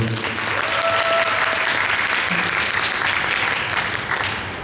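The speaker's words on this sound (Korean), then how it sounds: "이지혜 배우의 낭독 박수로 청해 보겠습니다" Applause from a theatre audience at a talk concert for the play Bea, welcoming an actress's reading: dense, steady clapping that fills the space throughout and eases off slightly at the end.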